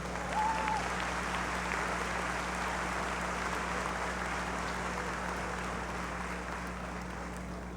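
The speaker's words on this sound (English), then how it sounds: "Please give them a round of applause." Sustained audience applause fills a Centennial High School graduation ceremony for the Class of 2021, a steady, dense wash of many hands clapping at even volume from start to finish.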